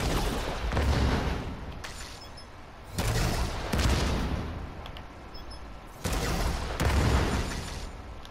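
An artillery turret firing in a video game: loud booming volleys in three evenly spaced bursts, each with a crackling, shattering tail that fades before the next.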